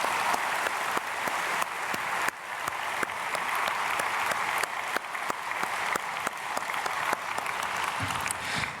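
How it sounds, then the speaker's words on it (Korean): A church congregation applauds continuously during a dawn prayer service, a dense steady clapping that fills the space for several seconds without pause. "우리 박수로 축복하겠습니다."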